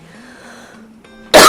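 A single loud, sharp cough bursts in near the end, close to the microphone, after a quiet stretch with a faint low hum.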